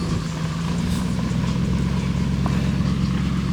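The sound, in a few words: Ram 1500 pickup truck engine running with trailer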